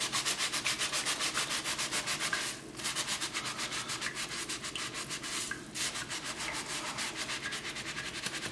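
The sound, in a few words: scrubbing a gas stove burner cap with a Scrub Daddy sponge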